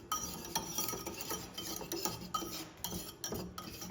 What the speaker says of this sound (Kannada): ಸಾಲ್ಟು ಶುಗರು ಮೈದಾ 3 ಕಂಬೈನ್ ಮಾಡ್ತಾಯಿದ್ದೀನಿ